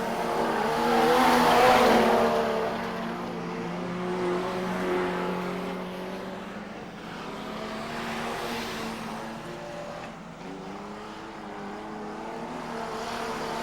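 Modified production race cars racing at Carina Speedway, engines droning and rising and falling in pitch as cars pass at a distance, a steady roar that swells and fades.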